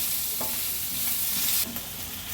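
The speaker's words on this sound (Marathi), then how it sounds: "थोडंसं तेलावर हे आपल्याला परतून घ्यायचं आहे।" Crushed garlic and chili tempering sautéing in hot oil for vada pav, loud close sizzling with a spoon stirring and scraping against the pan.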